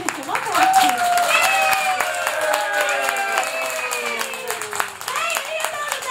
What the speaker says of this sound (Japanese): もっともっと拍手して